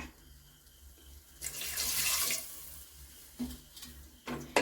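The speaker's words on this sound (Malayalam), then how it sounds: "ഇതിലോട്ട് കുറച്ച് ചൂടുവെള്ളം ഒഴിച്ചു കൊടുക്കാം" Hot water poured into a pan of softened tomatoes: a steady splashing, hissing pour swells for a couple of seconds, then tapers into scattered sizzles and stirring clinks.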